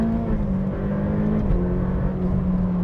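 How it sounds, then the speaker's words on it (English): Ferrari F8 Tributo with a turbocharged V8 heard from inside while driving, a loud steady engine drone with a pitch step as it shifts gears partway through, no talking. "How it goes into gear, how it shifts"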